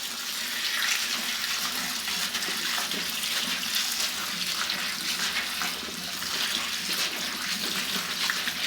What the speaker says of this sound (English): Now we'll wash in running water.